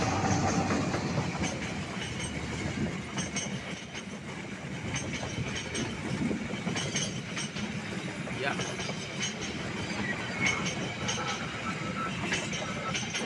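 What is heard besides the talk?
train arriving at Cimekar railway station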